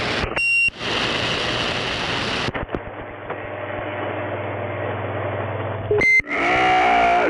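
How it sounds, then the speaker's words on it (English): A beeper gives high, squealing electronic tones in short bursts. Between them comes a steadier droning hum, and the squeals return near the end. "Gizmo, is this thing still squealing?"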